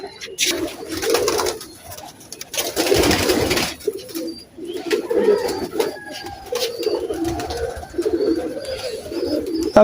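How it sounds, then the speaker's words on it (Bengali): Teddy pigeons coo repeatedly in a loose rhythm, with some flapping and background voices around a loft in Khulna, where the birds were released in the morning. "সকালবেলা কবুতর ছাড়া হয়েছিল দেখেন উপরে আছে"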